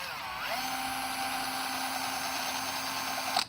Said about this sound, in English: let's just give this nut a quick polish